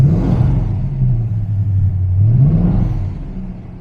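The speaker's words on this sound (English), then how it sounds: "Now it's actually idling" A TVR Griffith 500 sports car engine idles steadily in neutral in a low, rumbling drone, its pitch dipping and rising slightly, close and loud with no talking; it had been missing on one cylinder.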